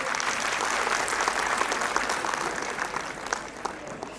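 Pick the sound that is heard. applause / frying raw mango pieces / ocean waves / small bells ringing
applause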